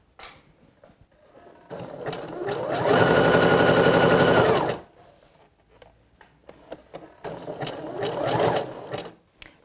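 A sewing machine stitches swimsuit fabric in two close runs, a long steady whirring burst, a pause with light handling clicks, then a second shorter run of stitching.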